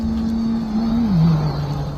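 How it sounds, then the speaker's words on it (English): A motorcycle passes along a street, its steady engine tone holding and then dropping in pitch as it moves away, fairly loud and continuous with no voices over it. "Well, we can hear a motorcycle, I think, passing by."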